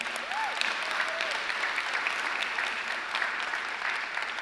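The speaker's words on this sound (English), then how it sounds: "Those are probably teachers clapping." Teachers in a keynote audience clap steadily, a dense continuous applause with scattered sharper claps, and a brief whistle-like tone rising over it near the start.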